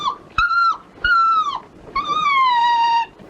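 A frightened dog whimpers in a series of three high, drawn-out whining cries, close and loud, with short gaps between them and no talking.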